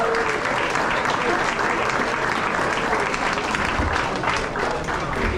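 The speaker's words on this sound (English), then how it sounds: "Let's give them all a huge round of applause." A banquet audience at a high school basketball awards event breaks into sustained loud applause, a dense crowd of clapping hands with some cheering, continuous throughout.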